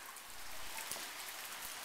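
Steady rain falls outside a house with a covered overhang, a soft continuous patter and hiss of drops on surfaces, fairly close and even throughout, with no talking.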